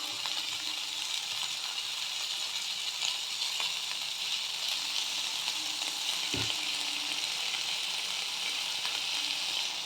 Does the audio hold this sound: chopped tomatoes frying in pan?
yes